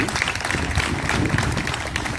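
A crowd at a wedding ceremony breaks into dense, steady applause, many hands clapping together at an even loudness throughout with no pause.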